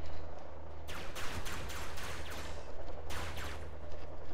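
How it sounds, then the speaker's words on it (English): Turret gunfire in a space combat video game, rapid repeated energy-weapon bursts over a low steady hum, quiet and fairly even, with clusters of shots early and again near the end. "It looks like somebody else might be shooting at him too."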